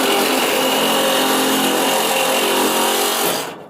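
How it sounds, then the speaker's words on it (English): A saw cuts through a metal crate with a loud, steady, continuous grinding whine lasting several seconds, close up, then stopping abruptly at the end. "with the saw compared to try with the grinder"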